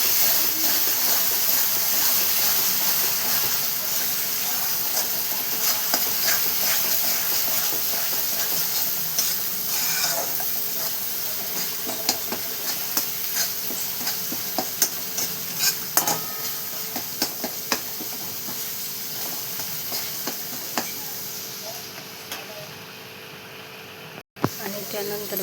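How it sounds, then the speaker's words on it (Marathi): Ginger-garlic paste frying in a pan for chicken masala, a continuous steamy hiss and sizzle with intermittent stirring scrapes and small utensil clicks, close by. "आपण आलं लसणाची पेस्ट टाकून घेणार आहे, बघा. छान मिक्स करून घेणार आहे."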